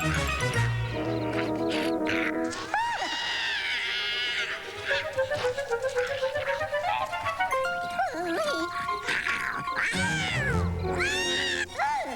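A cat in a stop-motion animated TV special meows and yowls loudly and repeatedly over a busy music score, with drawn-out caterwauling calls near the end.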